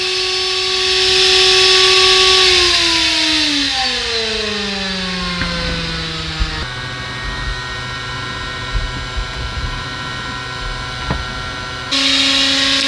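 A small electric motor runs from a current-limited OWON SPE3051 bench DC power supply, its whine sliding down in pitch as it spins up, then holding a steady buzzing hum before a brief jump near the end.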